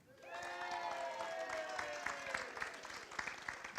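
Audience at a community awards ceremony applauding, a swelling round of many hands clapping in a large room, moderately distant.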